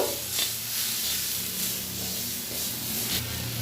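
Spices and mustard paste stirred in a hot frying pan for an Indian potato and okra curry, giving a steady close sizzle broken by rhythmic scraping strokes of the spoon.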